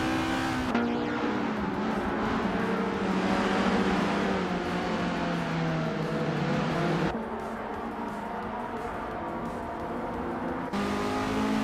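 Formula 1300 race cars racing on a tight-cornered track, engines droning and revving continuously as cars pass nearby, with shifting pitch and a sudden change in engine tone partway through.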